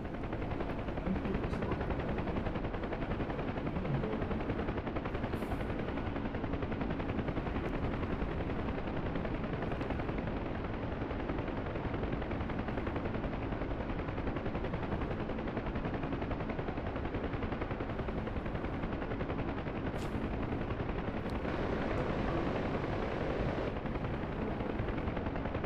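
Machine gun fire at a Huey helicopter in the flight simulator game DCS World, heard as dense, continuous rattling blended with a steady roar of rotor and engine noise throughout.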